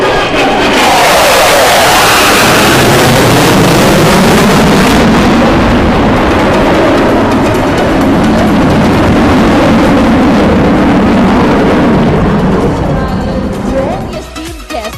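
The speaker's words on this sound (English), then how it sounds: "listen out for the deafening roar of the engines of the mighty" Fighter jets at an air force academy graduation parade at Dundigal thunder past in a deafening, sweeping roar that swells and shifts in pitch, with crowd noise mixed in.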